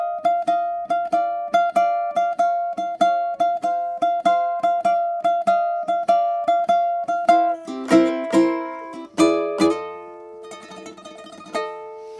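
A blues turnaround is fingerpicked on ukulele in F: a steady run of clear plucked notes over a repeating bass pulse, rising into a busier strummed flourish and ringing final chords, played alone and close.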